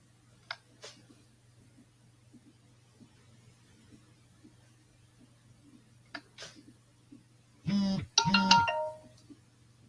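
A phone rings with an incoming call, two loud electronic ring bursts near the end after a long stretch of quiet room tone with faint scattered sounds.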